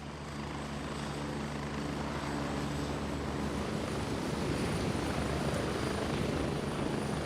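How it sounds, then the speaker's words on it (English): Helicopter in flight in the jungle setting of the game Gray Zone Warfare: a loud, continuous rotor and engine drone with steady thudding blade chop, heard from inside the aircraft and alone without talk. "We get to listen to the helicopter."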